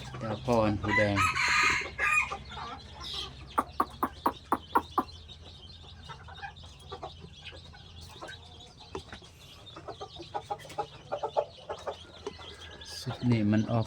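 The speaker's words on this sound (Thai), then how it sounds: "พอพันธุ์ไก่หูแดงเสียงไก่ F2 ตัวนี้" Red-eared F2 breeding rooster crows loudly at the start and end, with repeated sharp clucks and short calls from other chickens in between, close by in a coop.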